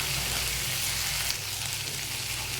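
Spices and mustard sizzling in hot oil for a thin vegetarian cucumber curry, a steady close hiss with faint crackle throughout, no talking.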